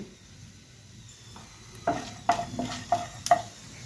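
Scattered sharp pops and crackles from mustard seeds, cumin and split lentils spluttering in hot oil, a handful of bursts over a soft background hiss, fairly close.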